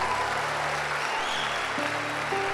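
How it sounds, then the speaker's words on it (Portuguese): Congregation applauding during a Sunday church service, a soft wash of clapping over a sustained organ or keyboard drone, fairly distant and even. "Pode aplaudir Jesus."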